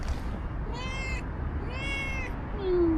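Cat meowing outdoors on the grounds of an abandoned old dacha estate in Odesa, giving two clear, drawn-out meows with a third starting at the end, fairly faint over quiet ambient background.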